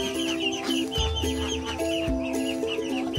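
Rambon Muscovy ducks (entok) call at close range amid a farmyard din of clucking and other fowl, with a steady tonal hum underneath, continuous and moderately loud without talking.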